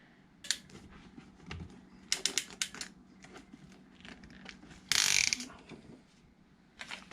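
A clamp tool crimping a clamp onto PEX water pipe, producing several sharp mechanical clicks and ratcheting snaps with quiet gaps between, close and fairly faint.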